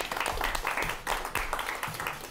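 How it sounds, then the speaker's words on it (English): At a state Quiz Bowl championship, the audience gives a round of applause, a fairly faint, continuous wash of clapping from a crowd that runs for a couple of seconds. "One more round of applause for everybody."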